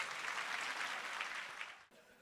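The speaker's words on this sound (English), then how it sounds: "A round of applause for that" Applause from an audience at a corporate awards event for rising stars, a dense steady wash of clapping that cuts off abruptly near the end, leaving a faint room tail.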